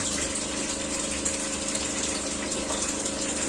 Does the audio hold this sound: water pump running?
yes